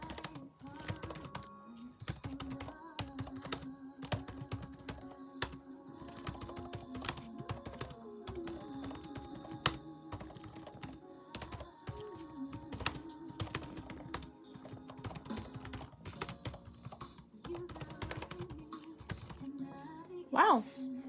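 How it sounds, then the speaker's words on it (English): Rapid, steady computer keyboard typing runs throughout a Nitro Type online typing race, close and continuous, with a voice talking over it and soft game sounds in the background. "I'm typing very accurately now."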